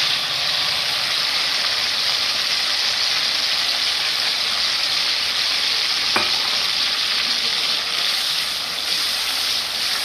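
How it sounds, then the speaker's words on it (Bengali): Onions fry and are stirred in a pan for chicken curry, a constant close hiss and sizzle with a single scrape of the spoon near the middle. "এবারে পেঁয়াজটাকে দিয়ে দিচ্ছি।"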